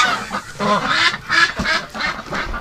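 Wintering ducks and geese in cold-weather lockdown quack and honk together in an excited, overlapping chorus, moderately close and steady throughout with no voices.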